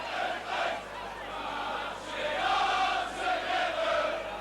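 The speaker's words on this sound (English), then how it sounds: "The crowd already below me shouting" A rugby league crowd at a 1989 Leeds v Bradford Northern Regal Trophy match shouts and chants in a steady, rolling roar that swells and eases, with massed voices carrying from a distance.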